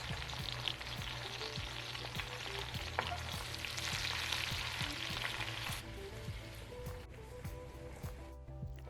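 Dawadawa and cured fish fry in coconut oil with a steady close sizzle and crackle, punctuated by soft knocks of stirring against the pan, continuing evenly throughout.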